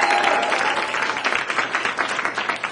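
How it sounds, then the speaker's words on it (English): Comedy club crowd applauding a stand-up comic at The PunchLine in Atlanta, a loud, sustained wash of many hands clapping that tapers slightly toward the end, with no talking over it. "I appreciate your applause."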